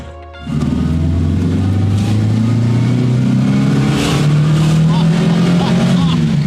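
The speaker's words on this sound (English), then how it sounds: "Oh, the engine it runs so nicely. I'm going to see how fast the car goes." A car engine rated at about 125 horsepower revs up loud and close as the car accelerates, its droning hum climbing steadily in pitch.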